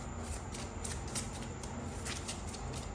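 Tarot cards being shuffled and drawn from a deck, a steady papery riffle and rustle running for the whole stretch at close range, with no voice over it.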